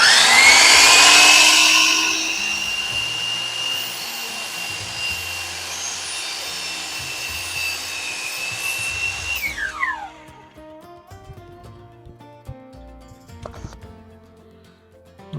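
A power saw slices through an old whiskey barrel stave for a candle holder, a loud rasping cut that holds steady for several seconds, then winds down as the blade spins to a stop, leaving faint knocks and handling noises.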